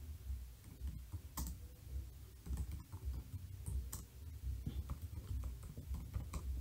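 Keys on a computer keyboard clatter in quick, uneven bursts of clicks as code for a forex trading indicator is typed, with the keystrokes close and fairly steady over a low background hum and no talking.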